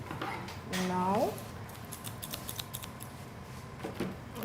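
Scissors snip in a quick cluster of sharp cuts during a tailoring lesson, close and clear, followed by quieter handling noise.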